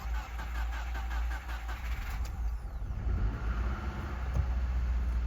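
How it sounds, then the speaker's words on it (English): A Subaru Forester engine, sitting unused for an unknown time in a wrecking yard, cranks and catches, then settles into a steady, close, rumbling idle with a faint rattle; no one speaks. "that thing fired right up"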